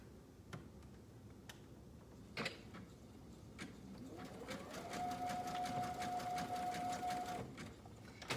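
A sewing machine stitches elastic onto a swimsuit in a zigzag, starting with a few faint clicks, then running in a steady, close whir with rapid rhythmic ticking and a sustained motor hum before slowing.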